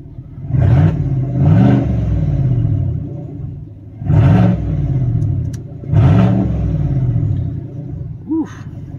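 A 2019 GMC Sierra Denali with a 6.2 V8 on open exhaust revs in four loud, rumbling bursts with a deep growl between idle stretches, heard close up without any talk.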